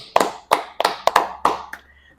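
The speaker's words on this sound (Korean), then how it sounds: "너무 박수를 줘." A few people clapping their hands, about eight sharp claps in an uneven rhythm, close and fairly quiet, then stopping.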